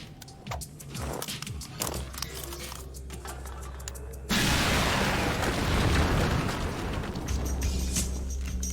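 Explosive charges go off in an animated sci-fi action show, a sudden loud blast erupting midway and rolling into a sustained rumbling roar after scattered smaller knocks and movement sounds.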